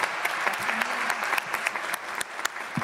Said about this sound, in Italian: Quindi doppio applauso per queste iniziative.